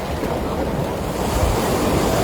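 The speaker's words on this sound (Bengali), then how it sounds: "কি জোরে জোরে আসছে ঢেউগুলো।" Strong sea waves surge and crash continuously onto the beach at Digha, a loud, close roar of surf mixed with wind buffeting the microphone.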